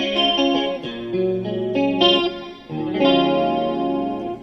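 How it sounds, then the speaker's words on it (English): A clean-toned electric guitar played through compressor and flanger pedals sounds out sustained, shimmering chords and notes with a sweeping, sparkly modulation, loud and up close with no talk. "I turn off my distortion pedal, turn on the compressor. There we go. And I turn my flanger on"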